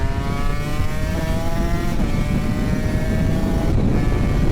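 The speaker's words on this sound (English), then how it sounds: "Nothing beats a 2-stroke singing on the main jet, particularly an MC28." A Honda NSR250 MC28 two-stroke motorcycle engine holding a high, steady rev, loud and close with a buzzing, slightly wavering pitch and no talk.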